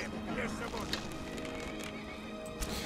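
Horse neighing and whinnying in Skyrim while under attack, a strained cry mixed with game ambience and clip-clop, with a voice talking over it.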